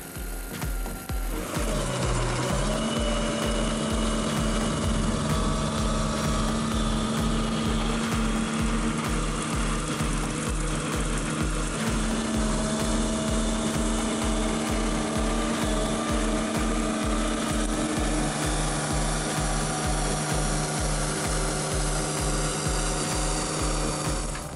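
A Demonio 23-000 forest mower grinds tree stumps, giving a loud, continuous mechanical roar with a steady droning hum that runs throughout, with no voices.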